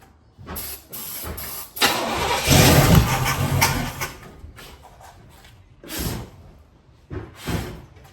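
A Chevrolet El Camino engine cranks repeatedly, with bursts of starter churning and rough catching in short uneven spurts; loud and close, with quiet gaps between attempts.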